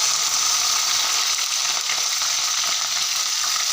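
Green beans fry in hot oil in a pan for vegetable fried rice, giving a steady, loud, close sizzle with fine crackling throughout and no talk.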